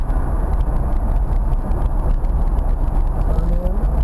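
A car on the AMP race track with its engine droning loud and steady throughout, rumbling low like a sustained drive, with a faint rising tone near the end.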